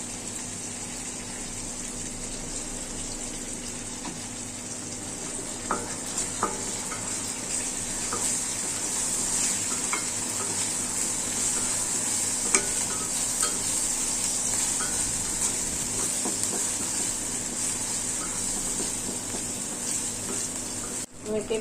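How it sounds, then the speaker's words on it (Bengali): Onion, green chili and ginger paste frying in oil in a wok while beef is being cooked, a steady moderate sizzle with occasional stirring clicks and scrapes throughout. "তেলের মধ্যে একটু ভাজা ভাজা হোক"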